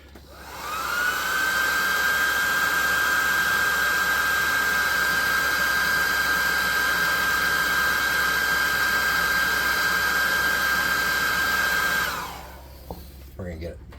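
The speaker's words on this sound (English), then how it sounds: "And then we'll dry that off with the hot air gun." A hot air gun drying paint on a miniature ogre figure runs as a steady, loud whir with a high whine for about eleven seconds, then shuts off and winds down, with no talking over it.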